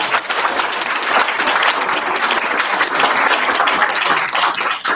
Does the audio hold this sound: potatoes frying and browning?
no